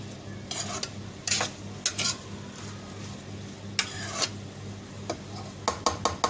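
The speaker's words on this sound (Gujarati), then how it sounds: "ડુંગળીને તેલમાં હમાય તતડવા દઉં." Onions sizzle softly in hot oil at a steady crackle while a spoon stirs and scrapes the pan in several bright bursts, the clinks and scrapes louder than the frying underneath.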